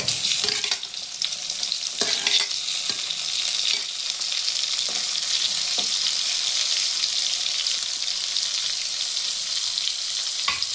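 Tomatoes and onions with curry leaves fry in a pan for a spicy Chettinad baby potato fry. A steady, close sizzle hisses throughout, broken by a few clinks and scrapes of stirring.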